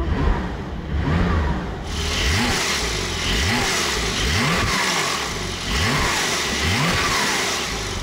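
Porsche 992 Turbo S in comfort mode with the exhaust valves closed, revved repeatedly: a series of short rising engine blips with a muted, subdued exhaust note, close by and without talking.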